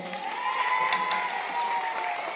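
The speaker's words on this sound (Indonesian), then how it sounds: "Tepuk tangan dong." A short burst of clapping from a small crowd at a school competition, fairly faint, with a tone sustained underneath.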